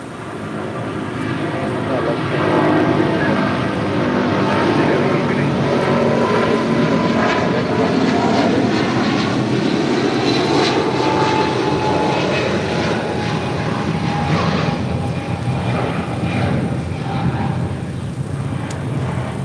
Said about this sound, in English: This is United Airlines 1170 taking off to Honolulu on a 777-200.